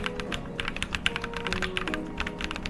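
Rapid, steady typing clatters on a keyboard fitted with artisan epoxy resin keycaps, a dense run of close, crisp key strikes with no talk.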